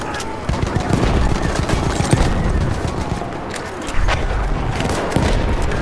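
BAR rifle gunfire in a first-person war video game: rapid bursts of automatic fire, loud and near, rattling over a busy battlefield din with distant shots and booms.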